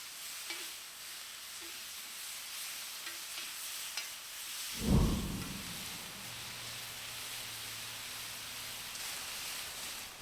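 Steak sizzles steadily in a hot pan with a broad hiss, then a sudden scraping stir midway briefly swells the sizzle before it settles back to an even fry.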